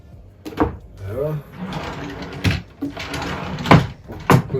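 Drawers of a mobile MFT workbench slide open and shut several times, each close landing as a short knock, with someone talking between the movements.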